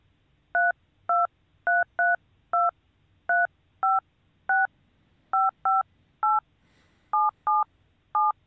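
Telephone keypad buttons pressed one after another, about fifteen short, clean two-tone beeps at an uneven rhythm over near silence, with no talk.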